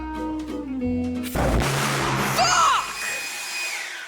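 A loud, roaring pulse jet engine bursts into sound after a brief musical passage, with a harsh broadband blast and a rising whine that slowly fades.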